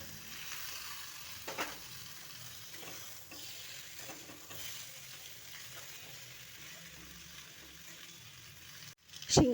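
Mixed vegetables dropped into chili paste in a hot pan, a steady soft sizzle and frying hiss with scattered stirring clatter, ending in a sharp clank near the end.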